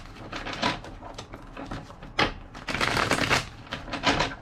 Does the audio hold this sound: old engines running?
no